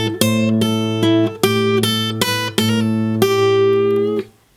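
Electric guitar plays a blues lick over a B dominant 7 chord, a run of sustained, distinct notes that ring out clearly alone before fading at the end.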